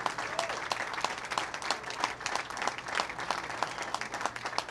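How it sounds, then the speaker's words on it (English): A crowd at a PWBA bowling tournament final claps steadily in a warm, continuous round of applause, moderately distant, with no voices over it. "How about one more big round of applause for your competitors"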